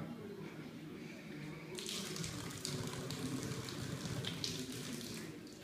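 Water runs steadily from a tap in Cuba, a faint hiss that grows fuller and splashier partway through, with a voice talking in the background.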